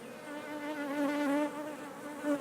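Honey bees buzzing steadily from an opened hive, a close, dense wavering drone of many wings with no talk over it.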